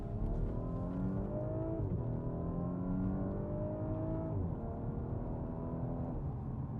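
An Audi S4 B9 with Quattro all-wheel drive accelerates hard, its engine note climbing steadily through several gear changes with brief dips between shifts, loud and continuous from inside the car, with no talking.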